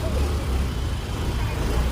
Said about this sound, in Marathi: चला, सुरू झाली फायनल गाडी.